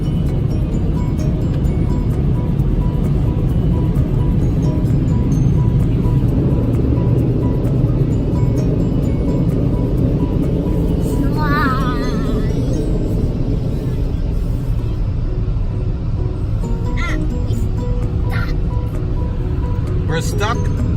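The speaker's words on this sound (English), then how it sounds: "Oh, it's drying the car." Car wash dryers blast air over a car in a loud, continuous rushing roar that eases slightly toward the end, with a few brief voices over it.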